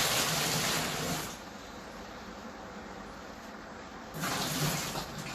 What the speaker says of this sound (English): I'm going to pour a litre of water into this sanitizer